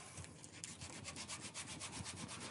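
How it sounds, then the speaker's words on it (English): Hand sanding with a small piece of 100 grit sandpaper, smoothing grinder and Dremel marks from an organic-shaped piece; steady, close rhythmic rubbing strokes with no talking. "I need some 100 grit, little piece of uh, 100 grit sandpaper"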